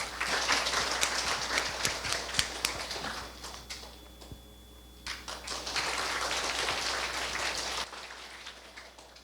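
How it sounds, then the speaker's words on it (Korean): Audience applause welcoming a guest lecturer to a university special lecture on plastic waste, dense clapping that fades briefly in the middle before swelling again and then dropping away. "뜨거운 박수로 환영해 주시기 바랍니다"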